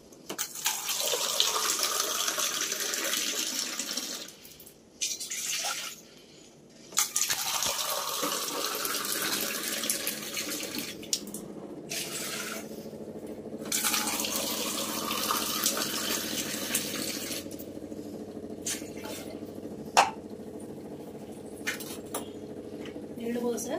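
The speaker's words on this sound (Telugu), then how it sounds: "ఒక కప్పు రాగి పిండికి 5 కప్పులు నీళ్ళు పోసుకున్నాం." Water poured from a vessel into ragi flour in a pot for porridge, a steady splashing stream that runs for several seconds, pauses briefly and resumes, close and moderately loud.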